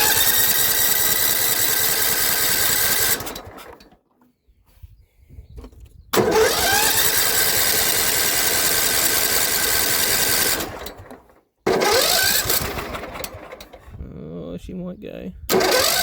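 John Deere L110 lawn tractor that had sat for three years, its engine cranking with a whining starter in long sustained bursts separated by short quiet gaps, close and loud, with voices talking.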